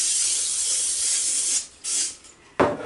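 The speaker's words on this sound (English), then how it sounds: "I always spray down my countertop with Lysol." Lysol disinfectant sprayed from an aerosol can onto a kitchen countertop: one long steady hiss, then two short close bursts, with no talking.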